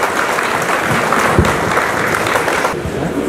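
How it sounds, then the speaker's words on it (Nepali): Audience applause at an honour and felicitation ceremony, a steady wash of clapping from many hands filling the room for a few seconds, fairly loud and continuous without any speech over it. "कृपया एकपटक फेरि पुनः जोरदार ताली बजाएर"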